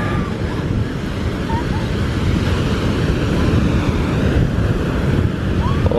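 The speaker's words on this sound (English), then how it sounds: "Oh, you get the wind down here." Steady wind buffeting the microphone with sea waves washing onto a beach at Alanya, Turkey, as a constant loud rush throughout.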